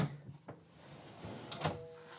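A stiff kitchen drawer in a renovated kitchen slides and bumps, giving a couple of soft thuds and then a sharper knock as it shuts, close and quiet in a still room.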